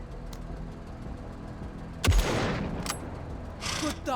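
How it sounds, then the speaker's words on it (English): Sniper fire in the tactical war game MENACE: a single sharp, loud crack rings out midway over a low ambient bed, followed by fainter distant reports and a brief burst near the end. "It's got to be another sniper shot."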